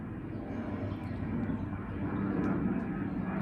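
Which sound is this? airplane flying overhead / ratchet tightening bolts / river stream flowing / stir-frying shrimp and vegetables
airplane flying overhead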